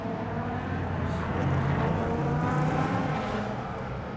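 IMSA Prototype Challenge race cars, Mazda-backed prototypes, lapping at Circuit Trois-Rivieres in sunshine, a steady loud engine roar that swells slightly as a car passes close, with no gaps.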